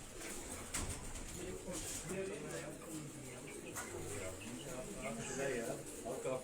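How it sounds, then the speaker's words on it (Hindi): An American wild pigeon coos in soft low repeated calls, with people talking over it throughout. "वाइल्ड पिजन है अमेरिकन"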